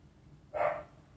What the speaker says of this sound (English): that dog will not just stop barking